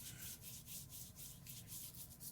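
A razor scraping off leftover facial hair during a shave, a close, quiet, rhythmic rasping of repeated short strokes with no talking.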